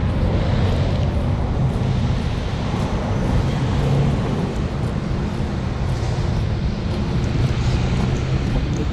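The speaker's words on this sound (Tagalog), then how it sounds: "malakas ang hangin ngayon." Strong wind buffets the microphone continuously at Rizal Park in Manila, a loud rushing roar with gusty fluctuations and no pauses throughout.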